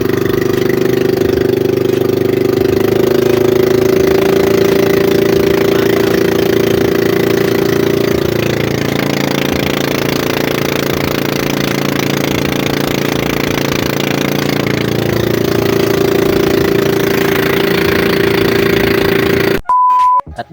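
A fishing boat engine runs loudly and steadily during a sea trial, its drone shifting pitch slightly as it revs, with a brief beep near the end.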